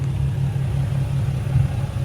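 Nissan 350Z with a lightweight flywheel idling, a steady low rumble with slight uneven chatter running throughout, close and fairly loud, no voices.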